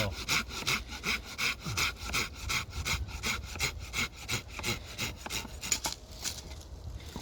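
Hand saw cutting through a freshly felled, still-wet tree branch in winter, steady back-and-forth rasping strokes in a fast even rhythm, close and clear with no talking.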